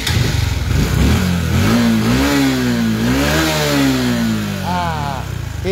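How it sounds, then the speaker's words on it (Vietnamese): A Honda Future 125 Fi motorcycle engine starts and revs up and down in several rising and falling sweeps, loud and close, with a brief higher whine near the end. "Và bây giờ tôi sẽ nổ máy nha anh em"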